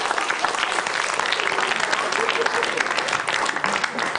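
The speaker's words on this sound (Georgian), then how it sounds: "ტაში" Studio audience applause on a Georgian late-night TV talk show, a dense sustained burst of clapping that fills the whole stretch at steady loudness with no break.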